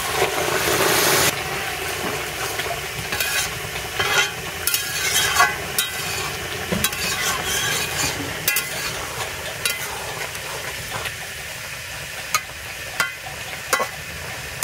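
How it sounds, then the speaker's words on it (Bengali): Steady sizzling and frying hiss from a jackfruit-and-shrimp curry as boiling water goes into the hot pan, with scattered stirring clinks and scrapes throughout, continuous and fairly loud with no talk. "পাশের হাঁড়িতে যে জল ফুটছে, এই ফুটানো জলটা আমি দিয়ে দেবো।"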